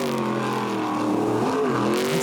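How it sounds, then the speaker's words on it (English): A powerful jet sprint boat engine roars close by during a race, its exhaust note holding a high, nearly constant pitch with slight wavering through tight corners, loud and continuous. "if you listen to the exhaust note, it hardly ever changes when they come out of these tight corners"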